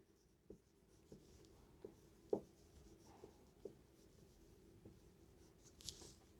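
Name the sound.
writing a math formula by hand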